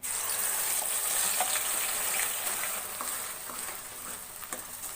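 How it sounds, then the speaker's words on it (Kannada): Ground masala paste fries in oil in a pan with a steady, close, bright sizzle and occasional soft stirring scrapes, and no voices over it. "ಎಣ್ಣೆ ಜೊತೆ ಇದನ್ನ ಚೆನ್ನಾಗಿ ಇನ್ನೊಂದು ಎರಡು ನಿಮಿಷ ಫ್ರೈ ಮಾಡ್ತೀನಿ"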